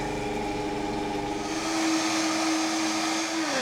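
A kitchen blender mixing homemade plant milk with vanilla powder: a steady, high whirring motor drone with a humming pitch that holds and then shifts slightly as the blend runs, with no talking.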